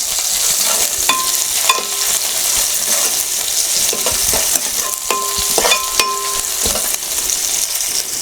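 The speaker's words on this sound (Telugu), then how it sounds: "వెల్లుల్లిపాయలు ఈ సిమ్లో పెట్టుకొని వేయించుకోవాలి" Garlic frying in oil on low heat, a loud, continuous close sizzle with repeated clinks and scrapes of a spoon stirring in the pan, and no voices.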